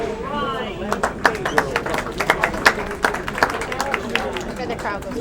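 A crowd at a bowling awards ceremony applauds in a burst of uneven clapping, with chatter mixed in.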